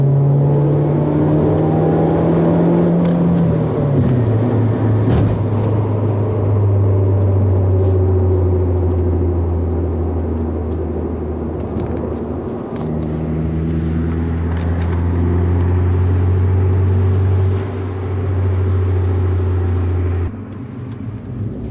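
A Saab with its muffler deleted accelerates in third gear at about half throttle, a loud steady exhaust drone that climbs in pitch with a slight buzz before smoothing out, close and continuous with no talking.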